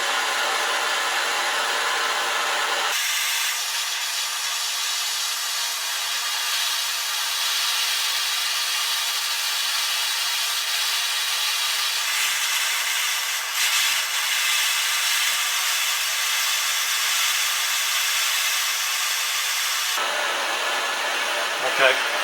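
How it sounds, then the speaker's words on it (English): A blowtorch roars steadily, a loud continuous broadband hiss, while an inlet manifold from a Classic SPi Mini is heated. The flame runs almost unchanged for about twenty seconds, quieter only at the very start and end. "I'm going to keep the torch running in the background because I might need it still."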